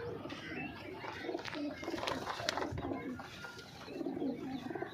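Punjabi Malwai pigeons coo softly in a loft, low murmuring calls overlapping with faint bird chatter and background noise, fairly quiet throughout.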